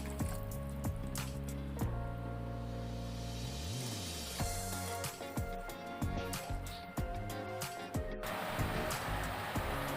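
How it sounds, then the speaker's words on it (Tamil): Water poured into a pressure cooker for chicken biryani, a steady fill with dripping and liquid splashes running through, mixed with kitchen clatter and background music. "நம்ம 2 கிளாஸ் அரிசி எடுத்ததுனால 3 கிளாஸ் தண்ணி சேர்த்துக்க போகிறோம்."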